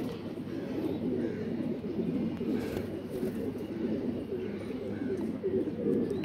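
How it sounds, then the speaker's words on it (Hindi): A steady, continuous cooing of Kasuri pigeons fills the space, dense and even, with occasional faint chirps and no clear speech. "ये हैं जी कसूरी असल कबूतर जिन्हें कहते हैं।"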